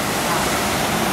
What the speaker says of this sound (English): The water's blue and it's got three levels, it's got three waterfalls.